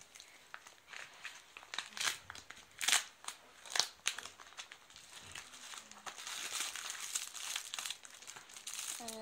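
Plastic packaging of an AliExpress iPhone 4s phone case crinkles and crackles as it is opened, with close rustling handling and a few louder crunches, no voices.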